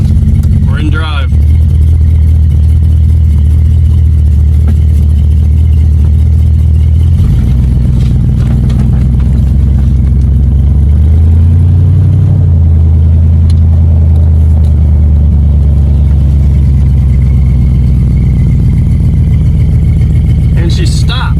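A 1984 Corvette engine running loud and close as the car is put in drive and pulls off, a deep steady rumble whose pitch shifts as it moves, with people talking over it.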